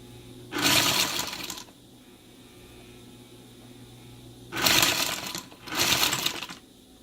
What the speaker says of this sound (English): I'm just going to sew across here to enclose that cut bottom of the zipper inside this fabric.